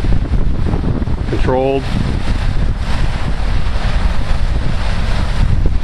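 Heavy rush of water pouring from a dam's large outflow pipe at Union City Dam, leaving a pond or lake over a cement barrier and rocks; steady broadband roar mixed with wind buffeting, with a brief spoken word early on.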